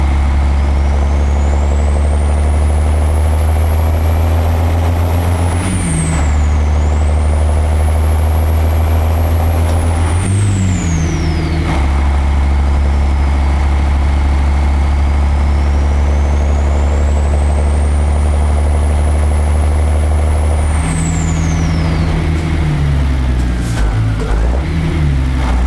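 Heavy truck driving on a four-lane mountain highway, a loud, deep engine drone with rising and falling whining gear tones and a brief air-brake hiss near the end, close by the whole time.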